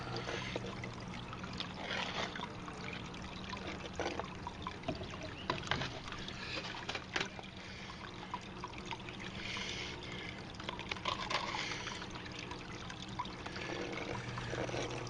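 Water trickling and flowing over a homemade Miller table fine-gold sluice at a slow rate of about 150 gallons per hour, a soft, continuous splashing close by with small gurgles and no talking.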